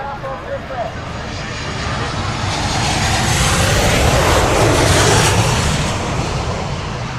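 A WestJet airliner passes overhead at a plane-spotting gathering near an airport, a broad roar that swells over several seconds, peaks, then begins to fade, with people chatting nearby.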